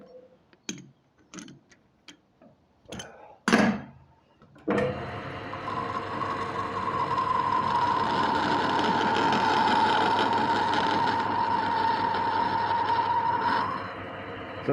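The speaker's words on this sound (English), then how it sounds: "I'm here now boring out a washer." A lathe with a boring bar held in the tool post cuts out the centre of an ordinary hardware-store washer gripped in a 3-jaw chuck, giving a steady, fairly loud machining whine and hum for most of the stretch after a few clicks and knocks.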